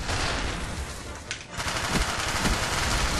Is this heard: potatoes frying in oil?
no